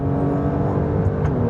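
2024 Alfa Romeo Stelvio Quadrifoglio engine pulling hard under acceleration, a loud continuous rising growl from the cabin with no talking.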